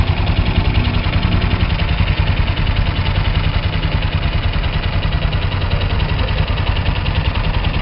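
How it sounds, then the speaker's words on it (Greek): A classic Athensville 250 motorcycle engine idles steadily at close range, a dense, even chugging rumble that holds constant throughout with no voices. "Είναι πραγματικότητα ότι ο ήχος αυτός του Ρελαντί είναι όντως πολύ ικανοποιητικός."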